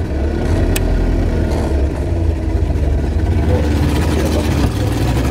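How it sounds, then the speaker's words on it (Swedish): On a fishing outing, a boat outboard motor drones and revs unevenly, loud and close, with the engine note rising toward the end and a voice speaking over it. "Det är likadant motor på min båt"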